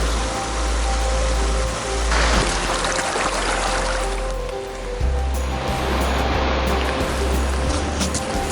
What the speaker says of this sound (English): hear the roar of Bridal Veil Falls